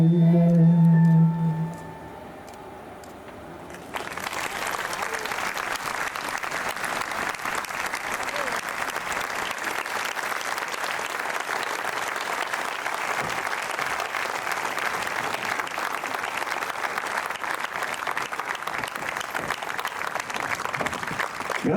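A big audience claps warmly for the Mani Bianche del Veneto choir, a dense, steady wave of applause that swells after a brief lull and then holds loud and unbroken to the end.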